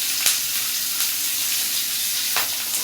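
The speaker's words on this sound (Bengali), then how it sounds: "তেল দিয়ে তারপর পেঁয়াজ মরিচ এগুলো কেটে রেখেছি, এগুলো দিয়ে দিই।" Chopped onions and chilies hitting hot oil in a pan, a dense continuous sizzle and hiss up close, broken by a few sharp stirring clacks, with no voices.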